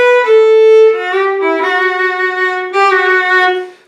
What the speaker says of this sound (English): it's very common with bluegrass fiddle to fill that space with what I call the echo fill